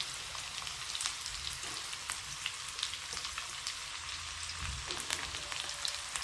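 Garlic and ginger fry in hot oil in a home kitchen, giving a steady quiet sizzle with light crackling pops throughout and no talk.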